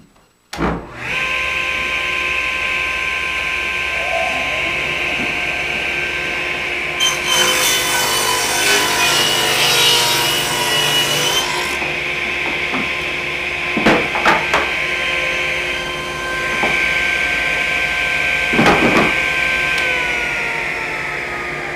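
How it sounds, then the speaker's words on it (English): Power saw cutting wooden shim stock, a loud continuous motor whine with harsher rasping bursts as the blade bites into the wood, running steadily for about twenty seconds with no talk. "Now that the shim stock is cut"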